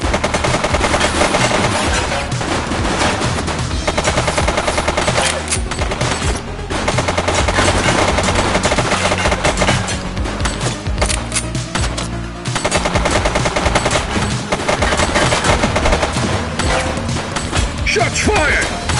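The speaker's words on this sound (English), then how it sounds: "Shots fired!" Rapid machine-gun bursts from a police shooter game set in a city precinct, loud and nearly continuous over about nineteen seconds, with music and voices layered underneath.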